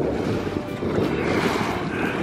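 A boat moves over the Baltic Sea off Weißenhauser Strand with steady wind buffeting and water noise, a dense continuous rush close to the microphone with no voices.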